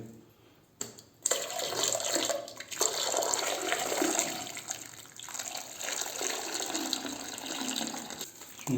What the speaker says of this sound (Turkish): Şimdi sıcak suyu boşaltayım oraya.